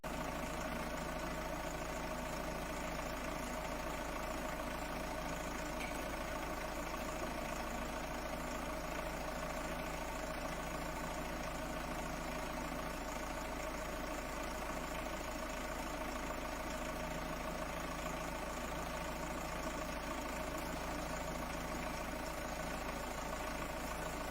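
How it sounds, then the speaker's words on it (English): A steady, low car engine idles on and on with no change in pace while raised on a lift during an Aisin Warner TF-80SC transmission oil change, a constant mechanical hum with no voices over it. "with the engine still running, the car goes back up in the air"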